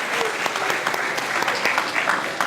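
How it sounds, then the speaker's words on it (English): An audience claps steadily and densely at a school follies show at Emerson School, a sustained, even round of applause from a full room with no voices over it. "can we please give them a big round of applause for all their help?"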